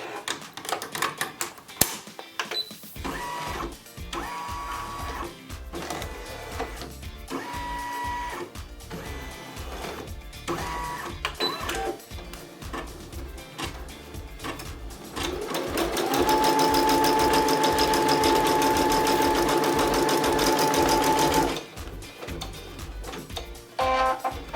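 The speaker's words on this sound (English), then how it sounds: "the machine is hard at work moving and grooving on those patches that I've assigned to it" A Brother Skitch embroidery machine stitches patches in a rapid, steady mechanical chatter, broken by brief pauses and shifts in pace, then rising into a louder, sustained whir with a whining tone before stopping; no one speaks.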